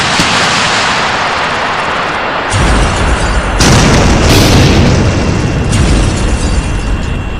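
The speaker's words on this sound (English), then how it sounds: "firing a kind of rapid-fire missile launcher" A loud, dense barrage of rapid-fire missile launches and explosions rumbles continuously from a Warhammer 40,000 Eldar Reaper, with heavy booming bursts and a roaring wash that intensifies partway through, close and overwhelming.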